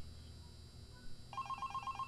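A phone begins ringing in Five Nights at Candy's Remastered, an electronic trill with a rapid warble that starts partway through, fairly faint over a low ambient hum.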